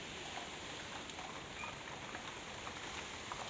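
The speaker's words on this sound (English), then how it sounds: "Well, more rainstorms have just hit." A heavy rainstorm gives a dense, steady hiss of rain pouring down, even and unbroken for the whole stretch, with no talk.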